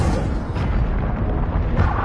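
Incendio fire spell cast in Hogwarts Legacy, a loud, dense, rumbling burst of flame that roars steadily for about two seconds, swelling slightly near the end.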